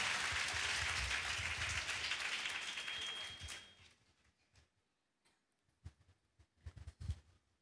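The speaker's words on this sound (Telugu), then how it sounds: "Let us clap." An audience at a church healing and deliverance meeting claps together in a dense burst of applause that fades out, followed by a few scattered isolated claps.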